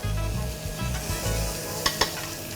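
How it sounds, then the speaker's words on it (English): Cauliflower hits a smoking-hot pan and sizzles loudly and steadily, with a couple of sharp clatters near the end as it is stirred. "Now I have my pan smoking hot. I will put in this cauliflower. You can hear that sizzle."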